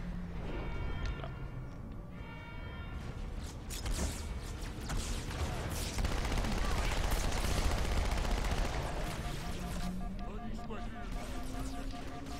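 Gunfire crackles in a Halo 2 battle, rapid bursts and heavy shots layered with mechanical creaks and in-game voices, the volume swelling in the middle and staying dense throughout.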